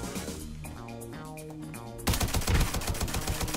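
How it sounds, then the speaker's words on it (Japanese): Rapid gunfire bursts in the mobile shooter Arena Breakout, a tense game soundtrack giving way to a loud, dense volley of repeated shots near the end. "なんか銃声したな。"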